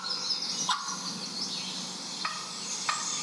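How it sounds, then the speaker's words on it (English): A turkey gives a few short, sharp clucks, spaced apart over a faint outdoor background, each call brief and fairly clear. "That does sound like a cluck."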